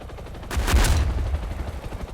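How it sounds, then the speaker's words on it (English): A helicopter strafes people with its guns in a big-city video game level: a sudden loud burst of rapid gunfire kicks in after a brief quiet start and rattles on steadily to the end. "What's that thing flying around that's shooting at everybody?"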